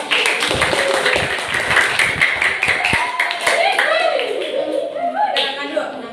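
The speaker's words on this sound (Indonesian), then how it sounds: "kelompoknya Sobari, tepuk tangan." A classroom group claps, a burst of many hands tapping rapidly and unevenly at close range, with children's voices rising and chattering over the applause as it fades.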